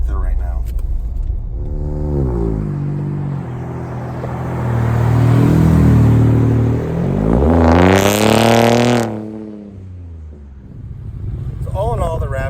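A 2018 Ford Raptor pickup drives along, its engine rising and falling through gear changes with a loud acceleration surge near the middle, heard from inside the cab.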